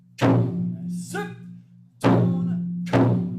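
Taiko drum beats in a basic practice rhythm, three heavy booming strikes with long ringing decay, spaced about a second apart, and a spoken voice between the first two hits.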